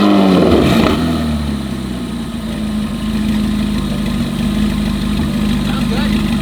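A Corvette ZR1 with Stage 2 Boost District cats, AWE switch path exhaust and Corsa intake, heard as a loud, close engine rev that quickly settles into a deep, steady idle rumble.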